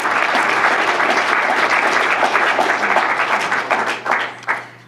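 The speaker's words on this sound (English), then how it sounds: "give a round of applause to Janet Hare and the Doubletree for." Applause at a 2015 MLK press conference: a full room clapping steadily and loudly, then thinning into scattered claps and fading out over the last second.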